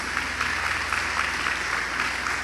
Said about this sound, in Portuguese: Aplauda a atitude de Ezequias.